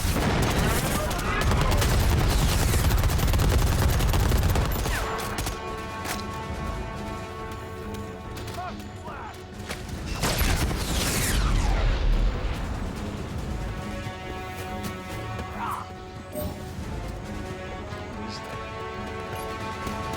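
Rapid bursts of video game gunfire, heavy and sustained at first, then continuing in loud volleys with game effects, with a player talking over the shooting.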